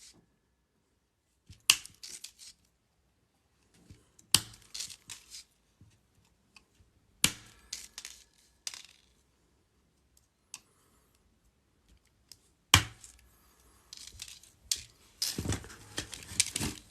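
Gold jump rings being snipped one by one for Marvel-themed infinity ring chainmail, giving sharp, close metallic clicks in scattered bursts separated by quiet pauses, busier toward the end.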